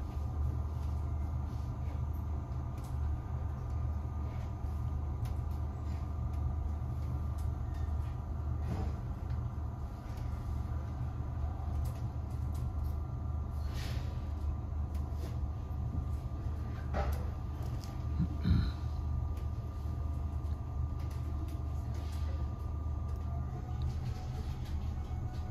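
Irish Rail Class 8100 electric multiple unit heard from onboard between Greystones and Dublin Connolly, a steady low rumble of wheels and traction with occasional faint clicks and squeals, continuous and without talk.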